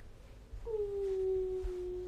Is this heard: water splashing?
no